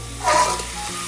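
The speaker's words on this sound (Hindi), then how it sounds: "इसे अच्छी तरीके से भूनेंगे।" Pork curry sizzles and fries in a pan during village-style cooking, a steady hiss that swells briefly as the mixture is stirred.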